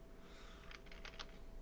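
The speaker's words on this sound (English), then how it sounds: "Hear you typing." Computer keyboard typing during an online tabletop role-playing session, a faint quick cluster of a few soft key clicks over steady background hiss.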